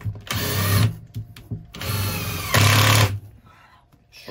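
A power driver sinks 3.5 x 60 screws into pre-drilled battens on a van floor, three loud whirring bursts of about half a second each, separated by short pauses and clicks.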